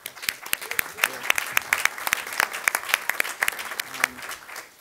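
Applause for port staff at a waterfront planning working group meeting: a room of people clapping in a dense, irregular patter of sharp claps that holds steady for several seconds, with no voices over it.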